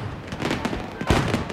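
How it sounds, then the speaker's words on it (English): Firecrackers thrown into a street during the Fallas festival in Valencia crackle and pop in a dense, noisy burst, with a sharper bang near the end. "The noisier the better seems to be the goal with which the adults throw the firecrackers into the street"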